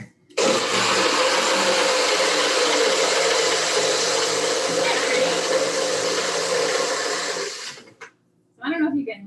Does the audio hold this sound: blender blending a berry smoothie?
yes